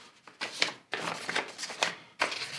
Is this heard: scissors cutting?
yes